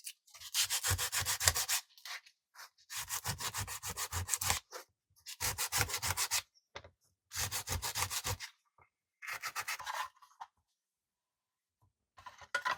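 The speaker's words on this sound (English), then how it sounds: "Let's take some sandpaper." Hand sanding with sandpaper on a DIY fume extractor fan build, close rhythmic back-and-forth scratchy strokes in five or six bursts separated by short pauses, with no talking.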